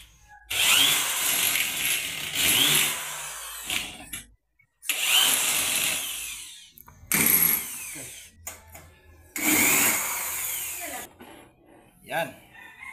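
A power tool drives bolts to mount a TV wall bracket, with several loud whirring bursts of a few seconds each. Brief pauses and faint background sounds fall between them.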